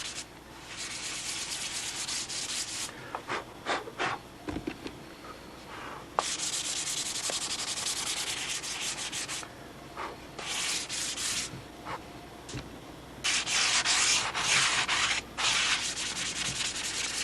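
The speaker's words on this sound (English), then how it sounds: "I want to get one side sanded out and then just try to do a comparison." Hand sanding of a balsa wood Spitfire model: bursts of dry, hissing rubbing strokes in irregular runs with short pauses between, close and fairly loud, no voices.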